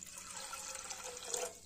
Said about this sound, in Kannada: ಒಂದು ಲೀಟರ್ ಅಂತ ನೀರು ಹಾಕ್ಲತ್ತೀನಿ ರೀ ನಾನು।